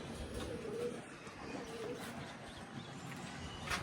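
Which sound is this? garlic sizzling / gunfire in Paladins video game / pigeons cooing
pigeons cooing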